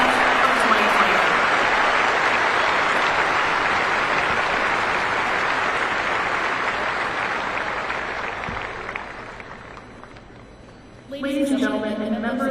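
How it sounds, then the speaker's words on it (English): Broad audience applause at the West Point military academy graduation ceremony for the class of 2024, a large crowd clapping steadily and fading out before a speaker's voice returns at the end. "how about a round of applause for the class of 1974 and our outstanding education class of 2024"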